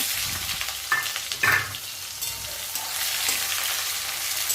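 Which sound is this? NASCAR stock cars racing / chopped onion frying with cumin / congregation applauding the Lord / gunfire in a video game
chopped onion frying with cumin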